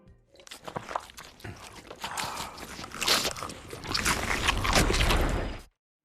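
Chewing food at a breakfast table: close, irregular crunches and bites across about five seconds, growing denser and louder toward the end before cutting off, with no talk.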